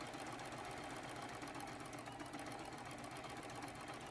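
Sewing machine stitching quarter-inch seams on quilted fabric for a Christmas angel ornament, a faint continuous rapid whirring hum throughout, with no speech.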